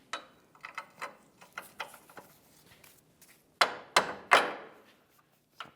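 A mounting bolt is tapped into a lower control arm bracket on the front driver side of a Chevrolet. A run of sharp metallic taps comes in uneven bursts, mostly light, with a few louder close strikes near the end.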